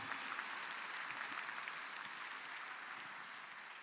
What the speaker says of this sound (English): Can we get a round of applause for the class of 25, guys?